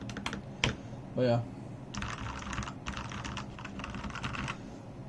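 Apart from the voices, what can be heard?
typing on Redragon K552 keyboard with lubed Outemu Ice Purple switches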